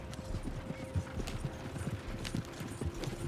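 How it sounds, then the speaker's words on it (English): Horse hooves clop in a fast, steady gallop rhythm in the video game Red Dead Redemption 2, close and continuous with light rattling tack and faint ambient noise. "Horses won't go this fast for long."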